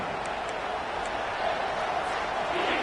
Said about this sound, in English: these fans trying to make it impossible to communicate